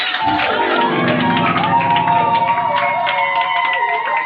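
A church congregation cheers and shouts in acclaim of God over loud worship music, a dense, sustained crowd roar blended with singing voices and held tones.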